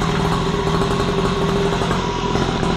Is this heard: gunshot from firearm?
no